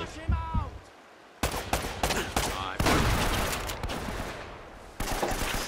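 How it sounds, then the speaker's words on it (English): Shotgun blasts in Uncharted: Drake's Fortune, several loud booming shots spread through a busy stretch of gunfire with game sounds in between, no talking. "I love shotguns"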